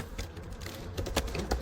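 Keys tapped on a computer keyboard while entering a git clone command for a Spring Boot 3 project, a quick uneven run of soft clicks close by.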